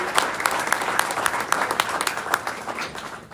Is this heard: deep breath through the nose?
no